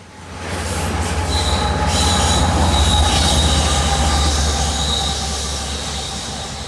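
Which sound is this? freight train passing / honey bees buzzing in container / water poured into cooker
freight train passing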